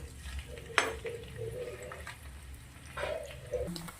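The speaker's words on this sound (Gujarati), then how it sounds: "પનીરને થોડું આપણે શેકી લેવાનું છે તેલના અંદર" Small pieces of paneer frying in hot oil on a tawa, giving a quiet sizzle close by, with occasional soft scrapes and stirring knocks from a utensil.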